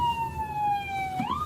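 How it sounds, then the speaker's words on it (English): Police car siren switching on, a single rising-then-falling electronic wail heard from fairly far off, faint over low road rumble, with the tone sweeping upward sharply near the end. "you can hear sirens turn on."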